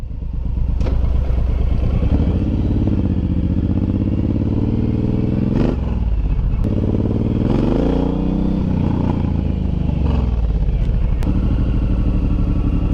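A Suzuki M109R motorcycle rides steadily with a loud, continuous engine drone close to the rider, rising and falling slightly through a few gear changes and throttle shifts, with occasional clatter.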